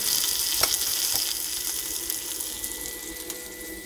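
Food fries in a cast iron pan on an electric cooktop turned nearly to high: a continuous, close sizzling hiss with small crackles throughout.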